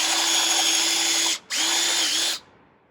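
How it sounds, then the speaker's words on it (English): A power drill bores through wood for a budget greenhouse build, whining loud and close in a steady run that cuts out briefly, restarts, then stops, with no talking. "Now, the point of my drill is going to come through the other side."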